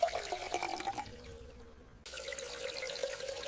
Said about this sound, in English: I refill my water bottle.